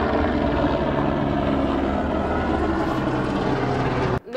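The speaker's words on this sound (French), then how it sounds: "Ah, hélicoptère." A helicopter passes overhead, its loud, steady rotor and engine drone filling the air without a break before cutting off abruptly near the end.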